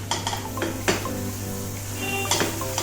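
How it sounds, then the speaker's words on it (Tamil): Semolina and grated coconut roast in ghee in a pan, with sharp metal spoon clinks and scrapes against the pan over a soft background sizzle, close and fairly quiet, no voices. "அரை கப் ரவை அதை சேர்த்துடலாம் அந்த நெய்யிலே வறுக்க போகிறோம்"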